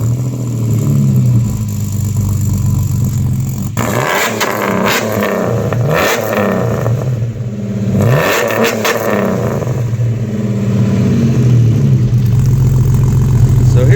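A Jeep stroker engine fitted with a Supertrapp 4-inch exhaust diffuser runs steadily near and loud throughout, a continuous low rumble with slight swells, and no talk over it.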